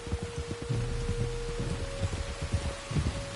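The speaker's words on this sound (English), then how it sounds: "You were right about the damn rain." Steady rain pours down in the open-world game Red Dead Redemption 2, a continuous soft hiss with low rumbling under a faint sustained tone, moderately quiet throughout.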